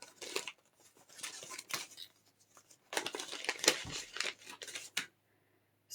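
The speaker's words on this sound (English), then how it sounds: "So here's another pair of Binny scissors." A pair of curved Handy Quilter Binny scissors handled close up: light metallic clicks, blade snips and rustling packaging come in quiet, uneven bursts with short pauses between.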